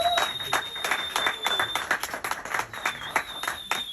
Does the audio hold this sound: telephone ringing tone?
no